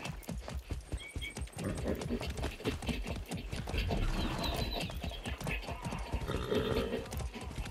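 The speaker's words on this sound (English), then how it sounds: "I think riding a horse is probably the coolest part about this game." Horse hooves clip-clop steadily and continuously while riding through the Far Cry 6 video game world, with occasional neighs and whinnies and ambient game sounds, fairly loud and close throughout.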